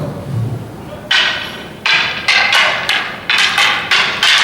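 Wooden practice swords clash during dojo blocking drills, a series of sharp, bright clacks arriving in irregular bursts, loud and close in a reverberant hall, about eight strikes in quick succession.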